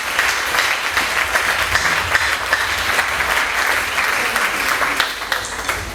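A church congregation applauds and acclaims the Lord, a steady, dense wave of clapping that holds loud and even for the whole stretch, with a few scattered shouts inside it.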